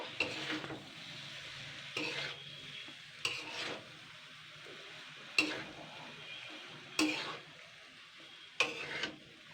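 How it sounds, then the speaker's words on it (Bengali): Cooked rice stirred in a pan over a low flame, with a soft sizzle underneath. Six distinct scraping strokes of a spatula against the pan come at roughly regular intervals. "তো এবারে এটা দিয়ে আমি লো ফ্লেমে ভালো করে নাড়াচাড়া করে নেব।"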